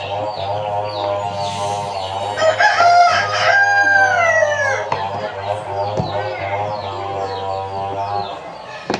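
Roosters crow loudly nearby, one long cock-a-doodle-doo rising over clucking and a steady low hum.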